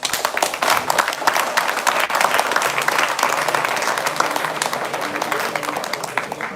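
An audience at a college valedictory ceremony breaks into sustained, dense applause, many hands clapping loudly and evenly throughout, with faint crowd murmur beneath.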